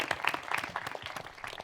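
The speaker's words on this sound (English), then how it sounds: "a round of applause, please" A brief burst of applause, with dense overlapping claps from an audience at a cast panel for the game Baldur's Gate 3.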